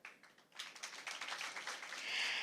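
Audience applause at an impromptu speaking competition, a burst of clapping that builds from scattered claps into a dense, steady patter, fairly close and moderately loud.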